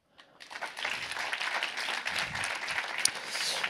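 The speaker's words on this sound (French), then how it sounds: "Bravo, bravo à ceux qui ont applaudi" An audience in a conference room breaks into fairly soft, steady applause that rises quickly and holds evenly throughout, with no voices over it.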